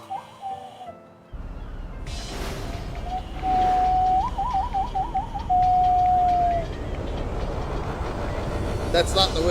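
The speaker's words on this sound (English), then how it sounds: "That's not the whistle you were expecting," A train whistle sounds in a video game trailer, a long sustained tone with a brief wavering middle section, heard over background noise and rumble, followed near the end by a clatter of other sounds.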